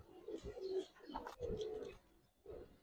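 Gribaz and coloring pigeons give soft, low, repeated coos in short bursts with brief pauses between them, faint and close, with a little rustling.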